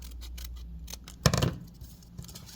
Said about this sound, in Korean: 그 다음에 밖으로 나온 것들 이렇게 좀 잘라주세요